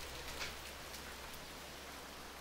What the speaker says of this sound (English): Yeah, it's raining pretty heavy.